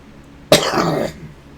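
One loud, close cough from a man, a sharp burst that trails into a rough, breathy rasp for about half a second before quiet returns, with no speech around it.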